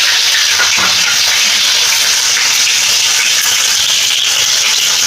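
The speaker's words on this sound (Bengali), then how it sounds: "এবারে এই তেলের মধ্যে ভেজে এই কুটো টমেটো কুচিটা দিয়ে দিলাম।" Chopped tomatoes hit hot oil already seasoned with dried red chilli, bay leaf and cumin, giving a loud, steady, dense sizzle that fills the whole stretch with no pauses and no talk.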